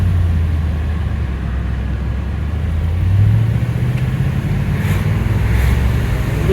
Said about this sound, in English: A little bit of an aggressive acceleration here.